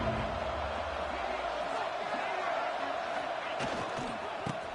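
A dense, steady roar from a big stadium crowd at a Texas Longhorns college football game holds level throughout, with a few sharper bursts of noise near the end.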